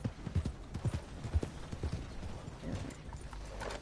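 Horse hooves clip-clopping in Red Dead Online, a quick uneven run of distinct hoof strikes up front that softens into a lighter patter, faint and alone with no talk.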